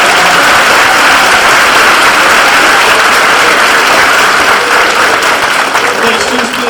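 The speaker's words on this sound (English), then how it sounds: "If you could give all the students another round of applause." Loud, dense applause for honor roll students at a high school assembly in a large hall, continuous clapping that fills the room for several seconds.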